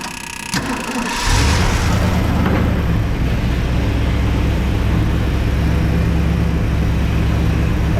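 A 1979 Ford F-250 welding truck engine cranks and catches with a loud rumble, then settles into a steady, close idle that continues without a break.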